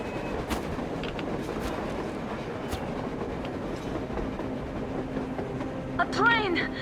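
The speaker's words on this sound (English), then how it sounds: "A train! A damn train on the surface!" A train moves across the surface in the video game Metro Exodus, making a continuous rumbling clatter with a few sharp metallic clanks and a brief squeal near the end, with game voices talking over it.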